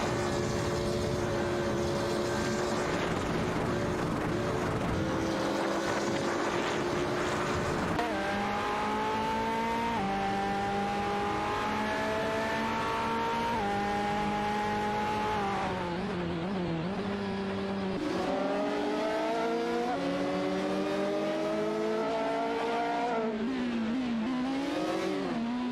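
Race cars in an AI-driven racing video game drone continuously, their engine notes climbing and shifting pitch through gear changes as the pack runs close together, loud and steady with no talk.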